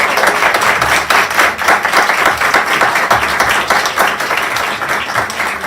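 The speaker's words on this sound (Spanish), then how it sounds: "Podemos aplaudir a nuestro Señor" Loud, sustained applause from a church congregation after a prayer, many hands clapping in a dense continuous roar that stays level for several seconds with almost no talking.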